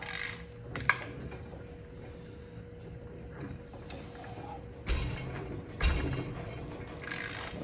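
A wrench straining against the transmission drain plug on a Porsche 993, with a few sharp metallic clicks and creaks standing out from a quiet garage, followed by two heavier jolts as force is applied.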